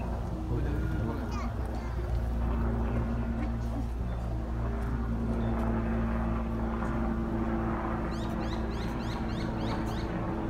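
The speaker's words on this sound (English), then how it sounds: "Oh, helicopter is coming." A helicopter approaches as a steady low mechanical drone that holds throughout, with faint bird chirps and other outdoor sounds above it.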